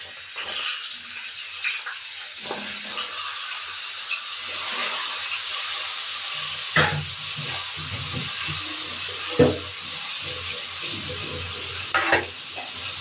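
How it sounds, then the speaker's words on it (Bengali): Fish heads rubbed with salt and turmeric fry in hot oil, giving a soft steady sizzle broken by occasional stirring scrapes and clinks from a utensil in the pan. "এবার মাছ মাথাগুলো ভেজে ফেলবো।"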